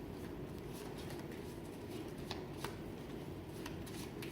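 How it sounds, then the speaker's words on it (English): Playing cards are shuffled in a steady, continuous riffle with soft flutters and a couple of sharper snaps, fairly quiet and close, with no talking. "Go ahead and shuffle them up again."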